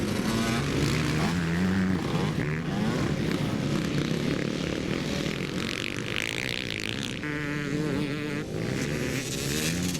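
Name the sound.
Yamaha YZ250 motocross bikes racing on track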